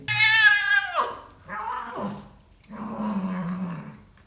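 A cat lets out loud, drawn-out meows, three in a row with short pauses between, the first high and wailing, the later ones lower and grumbling.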